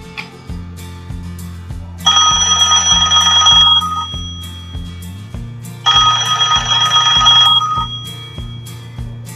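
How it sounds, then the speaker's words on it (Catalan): A red toy telephone in a children's story about Marieta the little mouse rings in two long, bright bursts, each lasting about two seconds, over a steady bouncy musical beat. "El telèfon no para de sonar."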